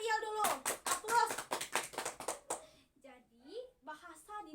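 An Indonesian fifth-grade class claps hands together in a quick rhythmic patterned applause mixed with children's voices, then the clapping stops and a teacher and pupils talk.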